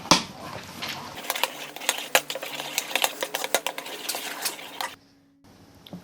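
A spoon clinks and scrapes against a bowl while mayonnaise, black pepper and salt are stirred into chicken pasta salad, in quick irregular taps that stop abruptly near the end.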